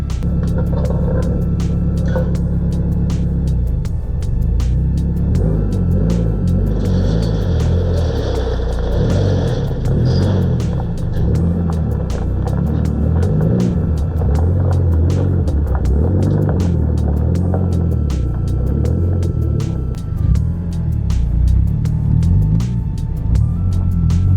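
A Nissan S13 car in need of repair idles with a loud, close, steady rumbling engine, then pulls away slowly as it is put in gear, the engine note holding a rough low drone throughout.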